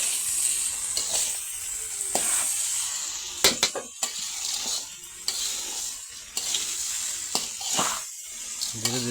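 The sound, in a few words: meat and rice being stirred together for biryani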